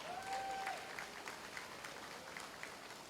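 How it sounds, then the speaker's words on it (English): Audience applause for the DJ at an evening business networking event held in a yurt, a fairly faint, steady patter of clapping across the whole stretch with a brief tonal whistle-like line near the start. "A round of applause,"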